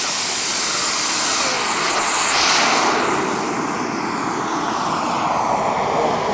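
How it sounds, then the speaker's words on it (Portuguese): A Jato ultralight aircraft takes off, its engine roaring loud and steady, swelling briefly as it passes closest, then holding a constant, slightly fading drone as it climbs away, with no talking. "Já sabe que o Daniel decolou."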